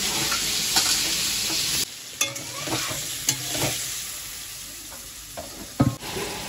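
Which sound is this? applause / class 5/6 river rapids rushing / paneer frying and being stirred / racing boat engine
paneer frying and being stirred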